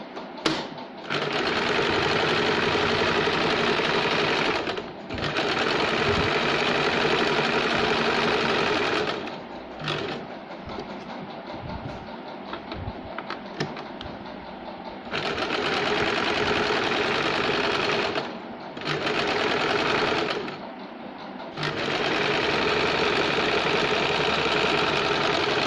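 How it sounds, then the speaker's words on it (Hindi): Sewing machine running a straight side seam that joins the lining to a katori blouse, a steady close whirring hum in long runs with brief stops and a slower, softer stretch in the middle. "साइड से हम एक सीधी सिलाई लगाएंगे ताकि लाइनिंग और साइड से पार्ट्स जॉइंट हो जाए"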